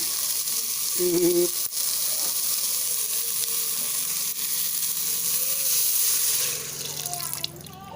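Water poured into a hot pan while cooking a northern Thai cabbage curry, giving a steady hissing sizzle that runs throughout and eases slightly toward the end, with faint background sounds and no talk.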